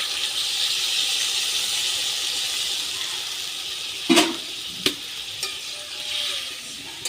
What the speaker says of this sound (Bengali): এবার দিয়ে দিচ্ছি আমি পরিমাণ মতো জল।